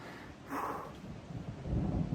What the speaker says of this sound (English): It's thunder in the background.